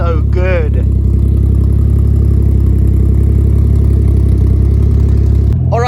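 Turbocharged M104 engine swapped into a Mercedes W203, idling through a new 3-inch exhaust with a steady, deep, even rumble close by, and someone talking briefly at the start and end.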